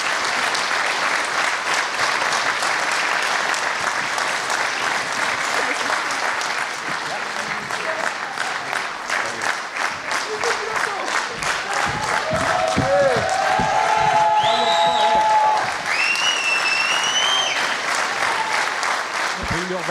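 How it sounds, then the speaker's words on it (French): A theatre audience breaks into sustained applause at the end of a comedy performance of Le Prénom, dense clapping filling the room, with cheers, whistles and scattered voices rising over it toward the end. "puis tonnerre d'applaudissements à la fin"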